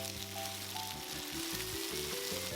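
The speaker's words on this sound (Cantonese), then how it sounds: "當啲牛肉落咗鑊之後，就盡量將佢攤開，要喺1分鐘以內將佢其中一面煎到金黃" Beef slices frying over high heat in a very hot wok, spread out to sear golden, give a steady, loud sizzle throughout with no talking.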